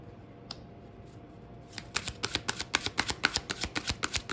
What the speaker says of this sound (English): what I'm going to do is shuffle the deck